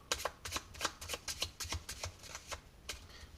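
Playing cards shuffled for a magic trick, a quick series of crisp riffling bursts in an uneven rhythm, close and fairly quiet with no voices.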